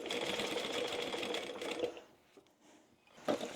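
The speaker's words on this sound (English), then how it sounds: "Start at the bottom and sew up to your line." A sewing machine stitches a small fabric bag with a flap, running steadily at a close, even hum for about two seconds, then pausing with a few faint clicks before a short burst of stitching resumes.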